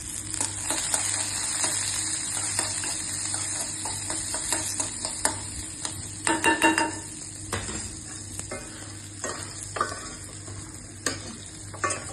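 Green beans stir-fried with onion and curry leaves in hot oil, a steady loud sizzle with repeated scraping and clinks of a spoon against the pan, no talking.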